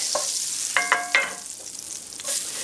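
Celery and onions sautéing in butter over low-medium heat, a soft steady sizzle close by with a few clinks and scrapes of a spoon stirring against the pan.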